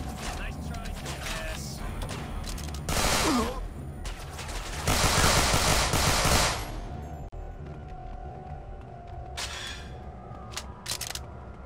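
Sniper gunfire in the video game Manhunt 2 comes as two loud bursts of shots, a short one and then a longer sustained volley, with quieter game sounds between and after.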